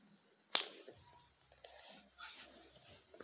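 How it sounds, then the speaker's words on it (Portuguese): A single sharp finger snap cracks close by, followed by faint rustling and low background noise. "Um estalar de dedos."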